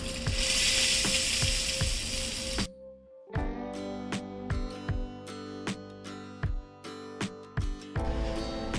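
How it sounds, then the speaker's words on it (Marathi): Cumin seeds and chillies hit hot ghee in a tempering pan with a loud, steady hiss. The sizzle stops briefly, then metallic stirring and clinks follow before the frying hiss returns at the end. "जिरे ही मिरची हा तडका आपण या चटणीमध्ये टाकू"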